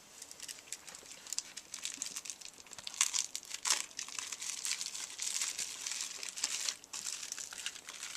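Crinkly plastic or paper wrapping being pulled open by hand near the tabletop, a steady run of close crackling and rustling with a few sharper tearing bursts, no voices.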